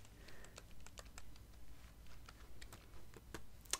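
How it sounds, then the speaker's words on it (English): Steady keyboard typing with quick, irregular key clicks, fairly close and quiet, with no voices. "Typing on a keyboard."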